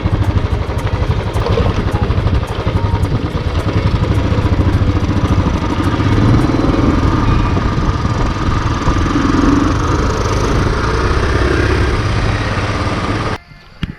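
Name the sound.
motorcycle engine idling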